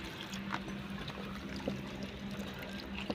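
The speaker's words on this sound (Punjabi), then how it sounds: "ਹੁਣ ਆਪਾਂ ਸਿੰਪਲ ਪਾਣੀ 'ਚ ਧੋਣ ਲੱਗੇ ਆ ਤੁਸੀਂ ਵੀ ਦੇਖ ਸਕਦੇ ਹੋ" Taro root (arbi) rinsed in plain water in a kitchen, giving a steady low pouring and trickling wash with small splashes throughout, close by and moderately quiet.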